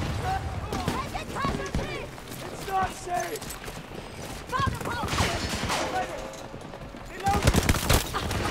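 Bursts of automatic gunfire in the video game Battlefield 2042, rapid rattling volleys that come and go over a steady game background, with a player talking throughout.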